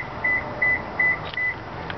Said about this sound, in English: We're getting intermittent beeps, so that one is also registered to the vehicle.